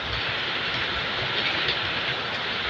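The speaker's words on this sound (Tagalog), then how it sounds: "Lalong lumalakas ang ulan." Heavy rain pours down steadily, a dense broadband hiss that swells slightly stronger partway through, with no voices over it.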